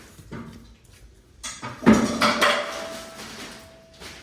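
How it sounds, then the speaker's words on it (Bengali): Flour, sugar, salt and yeast being mixed for dough in a bowl, a few close clinks and scrapes of utensil against the bowl, with one louder knock in the middle. "মেন জিনিস এই যে সব কিছু ভালো করে মাখিয়ে নেব আগে"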